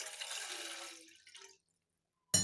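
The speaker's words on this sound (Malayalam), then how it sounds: "രണ്ട് ഗ്ലാസ് വെള്ളം അതിനകത്തോട്ട് ഒഴിക്കാം" Two glasses of water pour steadily into a pot for Sulaimani tea for about a second and a half, tapering off, then silence before a sudden loud burst at the end.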